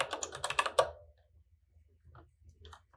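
A quick burst of keystrokes on a computer keyboard as a terminal command is typed, rapid close clicks for about a second, then a few sparse, fainter key taps.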